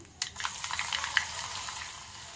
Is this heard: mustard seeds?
yes